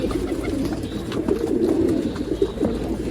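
Pigeons at a bird sale in Bangalore coo in soft, repeated throaty calls, several overlapping and close by, over a low background hum.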